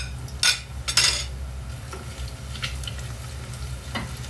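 Onion softening in a pot with crushed garlic added, a low steady sizzle beneath a couple of clanks and scrapes of a utensil against the pot, close by and without speech.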